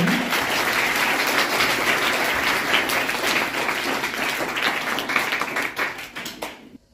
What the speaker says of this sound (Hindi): एक बार तालियां बजाकर स्वागत करें।